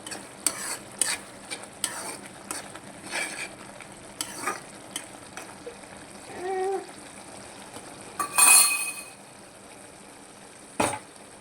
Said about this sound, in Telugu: ఆయిల్ అనేది పైకి వెళ్ళే వరకు మనం ఇది మంచిగా ఉడకబెట్టుకోవాలన్నమాట